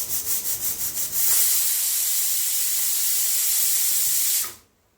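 A pressure cooker cooking Malvani chicken rassa vents its whistle: a quick run of rhythmic puffing pulses gives way to a loud, steady steam hiss lasting a few seconds before it cuts off abruptly.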